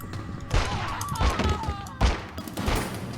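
Gunshots fired at zombies in The X-Files: Resist or Serve game, several loud, thudding shots spaced irregularly with short pauses between them.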